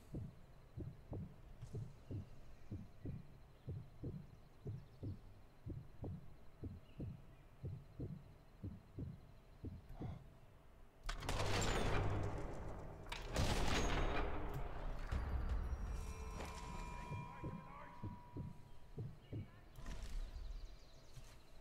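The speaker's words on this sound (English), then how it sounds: "gunshots really ring out across this valley." In the video game Sniper Elite 4, a steady low thumping pulse gives way to loud, booming gunshots that echo and roll out across a valley, followed by fainter distant reports.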